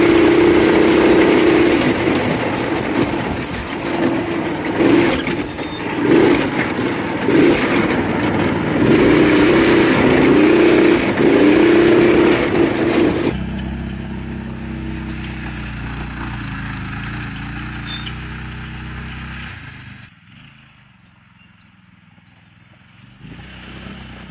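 Restored go-kart engine running loud and steady while drifting, a rough continuous roar that cuts off abruptly midway, leaving a quieter idle-like hum that fades near the end.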